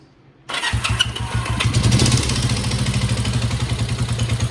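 A Honda CB350 twin motorcycle engine cranks and fires after a moment of quiet, then settles into a loud, steady, close-up pulsing run.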